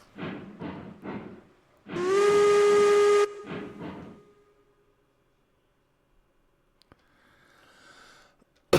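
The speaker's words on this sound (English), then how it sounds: "Oh, I hear the whistle." A steam locomotive whistle in the railway game Railroads Online gives one long, loud, steady blast of about a second and a half, framed by brief chuffing puffs before and after, then fades to near silence with faint distant hiss.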